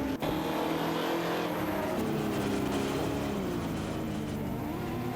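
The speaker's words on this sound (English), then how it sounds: "The race cars have been revving their virtual engines" Race car engines in a racing video game roar in a steady, loud, continuous drone with slight shifts in pitch, close and unbroken, with no voices.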